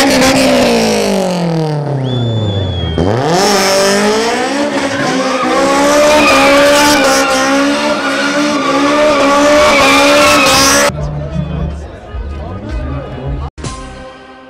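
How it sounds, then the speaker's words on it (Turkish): Modified cars doing a show, engines revving and climbing through gears with sustained tire squeal, loud and continuous, then a crowd-like wash of noise toward the end. "Başkan Tuna daha sonra modifiye arabalarının gösterisini izledi."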